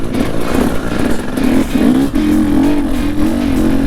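An enduro motorcycle engine runs steadily nearby in snow, holding a continuous mid-pitched drone with slight rises in revs and no voices over it.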